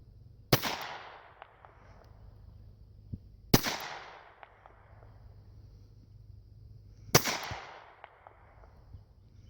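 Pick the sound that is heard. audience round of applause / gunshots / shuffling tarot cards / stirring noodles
gunshots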